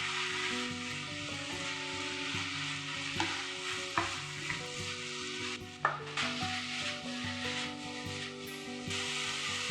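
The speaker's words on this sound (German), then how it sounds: "Als vorletztes die Fleischstreifen in die Pfanne geben." Strips of pork sizzle steadily in a hot frying pan for a Chinese fish-fragrant pork dish, with occasional scraping clicks as they are stirred, close and continuous with no talking.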